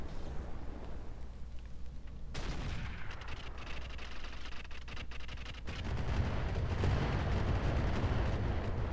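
Heavy mech weapons fire from the battle game Roguetech, continuous rumbling cannon and autocannon blasts with sharp cracks over a low roar that swells louder toward the end, no talk.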